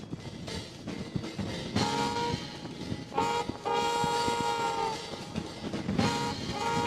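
Metro train in a retro pre-war advertisement from the Fallout games: a loud, continuous rumble of rolling rail cars with several sustained horn blasts rising over it.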